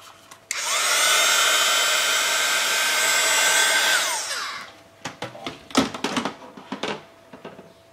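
A hair dryer blows on fresh paint during a rusted, oxidized metal trompe-l'œil finish, a loud steady whine for about four seconds before it winds down, followed by scattered clicks and handling noises.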